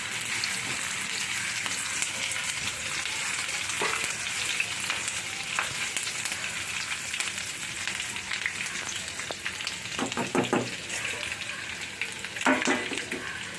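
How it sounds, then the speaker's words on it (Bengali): Chopped green chilli fries in hot oil with a steady close sizzle, broken by several scraping stirs and bursts of crackling pops later on. No one talks. "লঙ্কা কুচিটাও দিয়ে দিলাম।"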